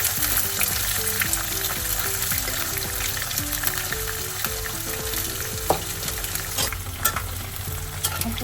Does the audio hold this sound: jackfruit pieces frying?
yes